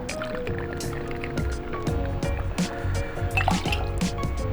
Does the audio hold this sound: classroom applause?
no